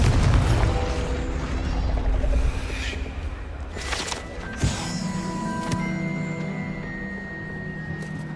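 A Confringo blasting spell in the Hogwarts Legacy video game opens with a heavy low boom. Rumbling debris and sharp impact cracks follow, then ringing magical tones as the blast dies away, with some voice heard faintly.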